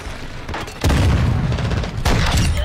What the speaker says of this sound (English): Using grenade charge.